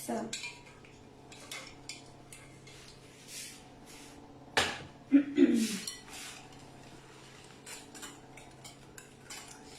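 Melted butter is added to a chocolate apple cake batter in a bowl, with soft utensil clinks, a sharp knock and a brief burst of scraping and stirring amid quiet kitchen background noise.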